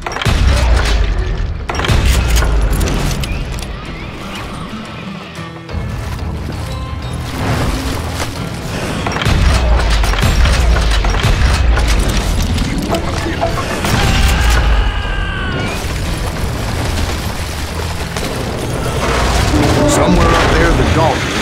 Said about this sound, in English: a fuselage of bullets come raining down from on high